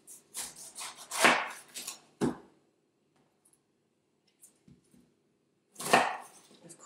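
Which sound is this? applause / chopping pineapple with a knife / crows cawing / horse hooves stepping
chopping pineapple with a knife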